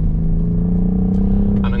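A BMW M4 engine under throttle on a race track, a steady low drone holding through the clip with a brief rise near the end, heard close from inside the car.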